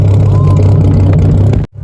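Loud, steady engine rumble from a Jeep 4.7 stroker V8 through a 3-inch mandrel-bent Magnaflow exhaust, recorded up close at the tailpipe, holding a deep drone before cutting off abruptly near the end.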